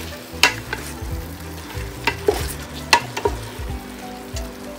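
Chicken tinola is stirred in a cooking pot, with a few sharp scraping clinks of the utensil against the metal over a low sizzle, close by and without talk.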